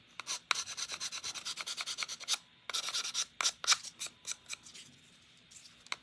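Brisk rhythmic strokes of sandpaper rubbing back and forth, a steady run of short scratchy passes, close and fairly quiet.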